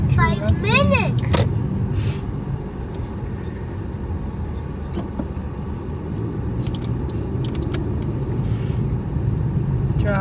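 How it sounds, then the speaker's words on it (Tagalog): City rush-hour traffic heard from inside a bus, with a steady low engine and road rumble throughout, a brief rising squeal early on, and people talking over it. "Traffic, guys."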